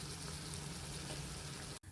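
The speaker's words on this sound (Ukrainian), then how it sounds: "Він смажиться, зараз буду перевертати." Fritters frying in a pan give a steady, close sizzle and crackle of hot oil throughout, quiet and unbroken except for a brief cut near the end.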